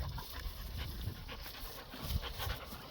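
A dog pants rapidly and steadily up close, a soft breathy rhythm that continues throughout at low volume.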